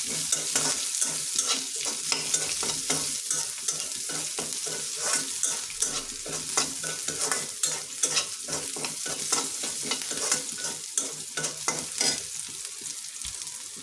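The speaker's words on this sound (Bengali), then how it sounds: "এই তো আমার ভাজা হয়ে যাচ্ছে" Chopped onion fries in a pan for a beef curry, with a constant crackling sizzle and repeated scraping stirs of a spoon close by and no talking.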